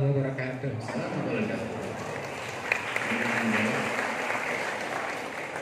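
Broad applause from a crowd at an evening religious lecture gathering, steady and fairly loud for several seconds with voices mixed in.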